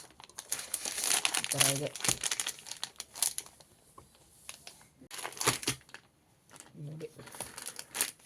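Plastic packaging crinkles and tears as an A5 Drawing Pro series sketchbook is unwrapped, in several bursts of crumpling with short pauses, while a person talks briefly over it.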